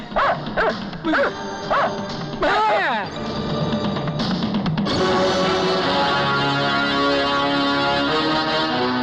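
A dog gives several short barks and yips near the start, then a sustained tonal electronic music bed takes over and runs loudly to the end.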